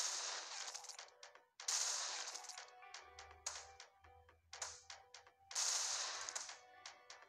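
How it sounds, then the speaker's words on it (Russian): Machine gun firing in an Android zombie shooter game, delivered in sharp rapid bursts separated by short gaps, with bright crackling reports and a low rumble underneath, loud and close with no talking. "Теперь я могу использовать пулемет."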